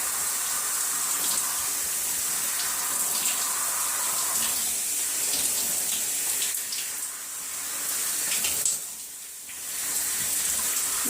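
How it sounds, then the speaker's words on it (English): Water from a tap or shower runs steadily over hair being soaked through on washday, a close, even splashing hiss with a brief dip near the end. "So right now, I'm just letting the water really saturate my hair."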